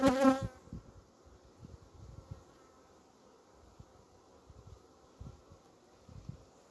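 Honeybees buzz in a steady, dense drone as a beekeeper shakes a hive frame, with a brief louder knock at the start and soft scattered rustles beneath the constant hum.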